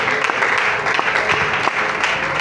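Dense, sustained clapping from a church congregation during morning prayer fills the space evenly, loud and continuous with a few louder claps and faint crowd voices mixed in.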